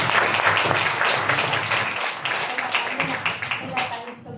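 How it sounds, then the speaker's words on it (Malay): Audience clapping at a gathering, a moderate wash of applause that fades into scattered individual claps near the end, with faint voices underneath. "Bagi tepukan yang dulu"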